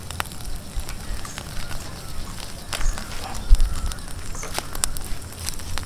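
Shrimp turned over on a grill with grill rods, giving a steady crackling sizzle of fire, scattered sharp pops and one brief louder knock near the middle, with no voices.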